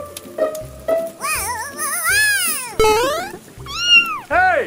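A cartoonish cat in a video game meows repeatedly in bright, sliding, drawn-out calls, some rising and falling, mixed with soft game effects and light plopping sounds.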